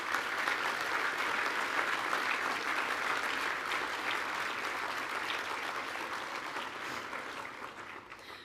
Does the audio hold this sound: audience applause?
yes